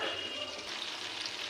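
Chicken pieces deep frying in oil for chicken manchurian, a soft steady sizzle and bubbling crackle heard briefly on its own, fairly quiet and close.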